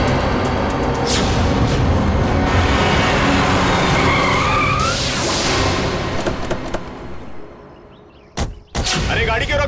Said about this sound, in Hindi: अरे गाड़ी क्यों रोक दी? देख के चला ना।